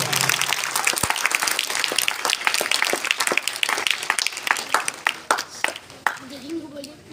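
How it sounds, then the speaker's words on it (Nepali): Students at a school event for International Students' Day applaud loudly and steadily, a dense sustained clapping that tapers toward the end with some voices mixed in. "यता उभिरहेका विद्यार्थीहरू जोरदार ताली बजाएका छन्"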